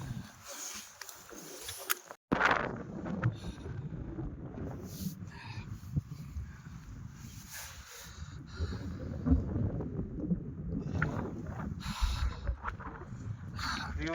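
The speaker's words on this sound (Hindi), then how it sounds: "बहुत तेज हवा चल रही है" Strong wind buffets the microphone on a mountain summit at dawn, a steady loud rumble of gusts that runs almost the whole time after a brief dropout near the start.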